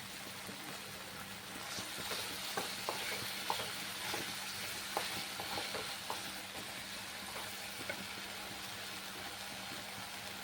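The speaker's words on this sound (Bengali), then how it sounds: "আর এখন আমি অল্প একটু জল দিয়ে দিচ্ছি।" Water poured into a pan where rui posto, rohu fish in poppy seed paste with sesame paste, is frying, giving a steady close sizzle with scattered stirring clicks and pops.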